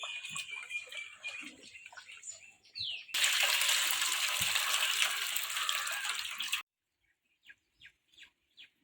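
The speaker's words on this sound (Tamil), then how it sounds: "அரிசி கொட்டி தண்ணியில் கழுவி அரிசி காய வைக்கிறோம்" Millet rice is washed in water, with a burst of rushing, splashing water lasting a few seconds. Quieter scattered clicks and chirps come before it, and a few short taps follow.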